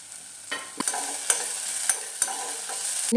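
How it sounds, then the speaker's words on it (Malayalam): Coconut pieces fry in a pan for an evening snack, giving a steady sizzle with sharp scraping stirs and utensil taps recurring about every half second to second, close and alone with no voices. "തേങ്ങാക്കൊത്ത് നമുക്ക് ഇതിനകത്തിലിട്ട് നന്നായിട്ടൊന്ന് വറുത്തെടുക്കണം"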